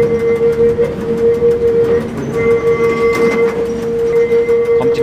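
An old tram rolls slowly along rails in the OMSI 2 simulator game. A steady electric whine and rumble carries on throughout, with soft rhythmic clicks from the track.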